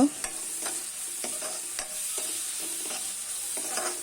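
Onion sautés in a pan with dried chili, bay leaf, cinnamon, cardamom, ginger, cumin and ground spices, giving a soft constant sizzle under repeated spoon scrapes and taps, close up, with no talking.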